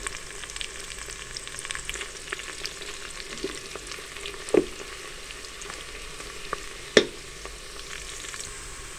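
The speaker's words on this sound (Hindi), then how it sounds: "प्याज को हम गोल्डन ब्राउन होने तक फ्राई करेंगे।" Sliced onions frying in oil in a pan for Pakistani daal mash, a steady close sizzle throughout with occasional louder stir clatters, no talk.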